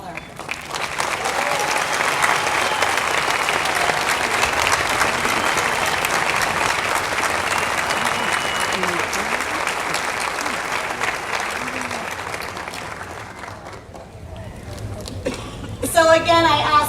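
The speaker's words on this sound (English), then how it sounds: "Please give a round of applause to Luis Atto, my father." A graduation audience applauds the speaker's father, with sustained dense clapping from a large crowd filling most of the stretch, then tapering off before a voice briefly speaks near the end.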